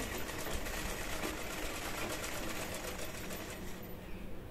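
Sewing machine running steadily as it stitches a strip onto a blouse, a continuous close whirring hum that lasts almost the whole stretch before easing off near the end.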